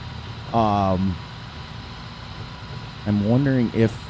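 A tractor engine in the farming video game Farming Simulator 22 runs at a low, steady idle throughout, with someone talking over it in two stretches.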